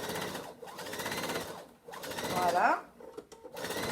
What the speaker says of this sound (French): je vais me faire une petite piqûre nervure pour maintenir la pochette fermée